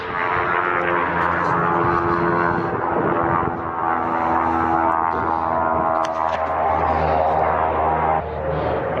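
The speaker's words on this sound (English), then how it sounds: "there's freaking planes" A propeller airplane drones overhead, a loud sustained engine hum with wind rushing, lasting the whole stretch with no one speaking.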